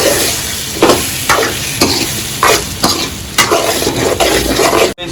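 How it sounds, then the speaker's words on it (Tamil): Five beaten eggs are stirred and mixed in a hot pan while cooking egg rice, with repeated loud scraping strokes about every half second over a faint sizzle and no talk. "ஆட் பண்ணி வச்சு நல்லா மிக்ஸ் பண்ணி வச்சிடலாம்."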